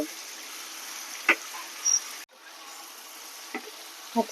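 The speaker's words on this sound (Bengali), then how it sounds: "দেখ এবার পেঁয়াজটা টমেটোটা একটু ভাজা ভাজা হয়ে গেছে" Onions and tomatoes fry in a pan with a steady, fairly quiet sizzle, broken by a few brief stirring scrapes and clicks and a short gap partway through.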